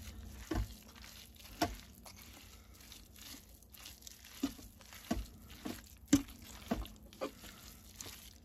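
Ingredients for slow cooker pulled pork being stirred, giving soft crinkly scrapes and wet crunches in irregular strokes, close and quiet, with no talking.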